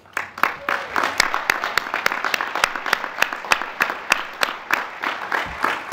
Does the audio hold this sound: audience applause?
yes